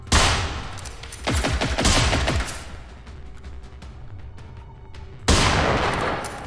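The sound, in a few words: gunfire shooting through windows in Generation Zero video game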